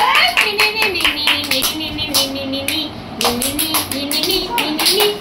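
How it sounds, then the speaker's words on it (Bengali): A group of people clapping hands at a small home gathering, loud uneven claps close by, with a voice talking and singing-like speech running over the clapping. "জোরে হাততালি সবাই নে হাততালি"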